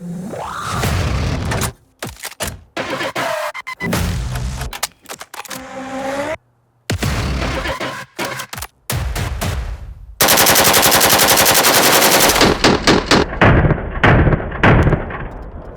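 AK-12 rifle gunfire on a shooting range, with loud sharp shots fired singly and in quick runs, separated by brief silences, and ending in a dense rapid string emptying the magazine.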